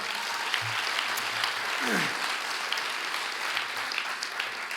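Audience applauding at the Folsom State of the City 2020 event, a steady dense wash of clapping from a crowd filling the whole stretch, fairly loud and continuous.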